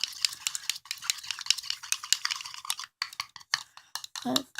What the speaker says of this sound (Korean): 이렇게 물풀을 넣고 섞어줍니다.